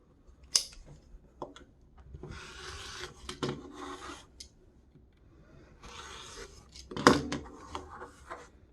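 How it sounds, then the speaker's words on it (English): A rotary cutter slices quilting fabric along a ruler on a rotating mat, giving several short, close, crisp scraping strokes with quiet gaps and a sharp tap near the end. "Grab my rotary cutter, hold it down securely."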